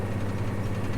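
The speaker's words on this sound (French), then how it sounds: "si j'arrête mon tracteur" A farm tractor engine idles close by on a farm, a steady low droning rumble with a constant throbbing hum and no voices.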